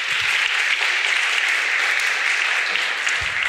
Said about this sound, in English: big round of applause for the AV guys